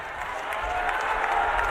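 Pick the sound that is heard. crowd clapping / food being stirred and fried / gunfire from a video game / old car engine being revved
crowd clapping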